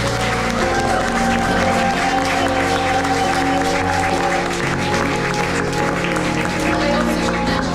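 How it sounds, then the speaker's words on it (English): Audience applause for Roisin on the opening night of an arts festival, dense steady clapping from a crowd, loud and continuous, with background crowd noise underneath. "all give a round of applause for Roisin"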